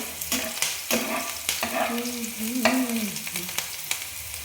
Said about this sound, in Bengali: এবার আমি পেঁয়াজ লঙ্কা দুটো একসাথে দিয়ে দিচ্ছি। এবার একটু ভেজে নিতে হবে।